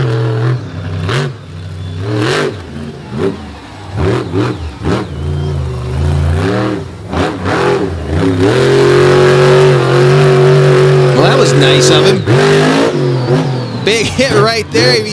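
A monster truck engine revs hard and roars during a wheelie over a stack of vans on a rain-soaked beach track, loud and sustained with rising and falling pitch, while an announcer talks over it.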